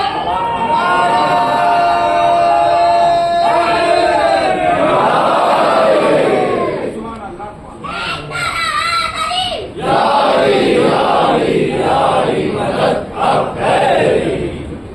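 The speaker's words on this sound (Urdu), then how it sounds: "آج بھی نعرے حیدری لگا کے دیکھ لو" A majlis crowd at an imambada chants the Nara-e-Haidari slogan in loud, massed shouts that swell and break into repeated surging cries, with voices overlapping.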